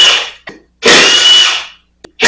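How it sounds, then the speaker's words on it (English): Short bursts from a power tool unbolting nuts from the rim hub of a Honda 200M: loud, close whirring pulses, one longer burst in the middle, separated by brief silences and a few small clicks. "I'm going to unbolt the rim from that center hub"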